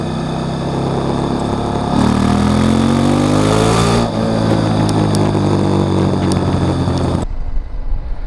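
A KTM 790 Adventure motorcycle in rally mode revs hard and close, its engine note climbing through repeated throttle blips before dropping away abruptly near the end. No one speaks.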